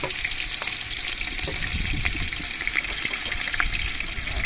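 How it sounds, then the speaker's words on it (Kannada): Chillies, onion and garlic frying in a pan of oil for biryani give a steady, close sizzle with faint crackles throughout and no talk. "ಕರಿಬೇವು, ಕೊತ್ತಂಬರಿ ಎಲ್ಲವನ್ನು ಸೇರಿಸಿ ಚೆನ್ನಾಗಿ ಹುರಿಯೋಣ."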